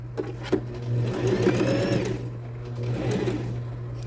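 A sewing machine runs a continuous stitch around the edge of an outer fabric piece for an Easter chocolate holder, with a steady motor hum and fast needle rattle, speeding and easing slightly, close up.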